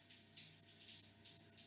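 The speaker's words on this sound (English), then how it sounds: "It's gonna be shower noise." Shower water running, used as the audio for a Quaver 4K rhythm game map, a soft continuous hiss of spray with slight surges, faint and steady with no talking.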